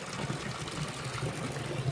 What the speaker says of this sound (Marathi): गौमुखातून पाणी येतं आणि हेच पाणी नदीला मिळतं.